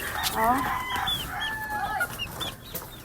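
A rooster crows close by, a drawn-out rising and falling call, with other chickens clucking around it and faint voices in the background.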